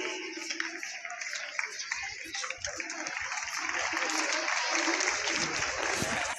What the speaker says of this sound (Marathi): जोरदार टाळ्या म्हणतात.